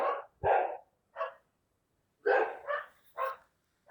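A dog barks repeatedly nearby, short sharp barks in two clusters separated by a brief pause.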